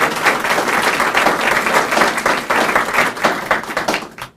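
Audience applause for a city health department at a news conference, a steady dense roar of clapping lasting the whole stretch before fading at the end.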